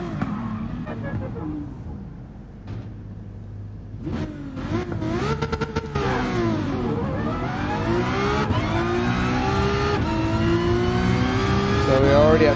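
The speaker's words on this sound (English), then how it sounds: "we will get to the start where I'll be launching the car and going through all the gears" A 1000HP LaFerrari in Gran Turismo Sport launches from the start, engine revving hard and climbing through the gears in repeated rising sweeps, loud and continuous with brief shift dips.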